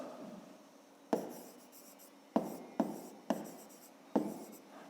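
A pen writes on paper while a school math exercise is worked out, faint quiet scratching punctuated by five sharp taps, with no speech.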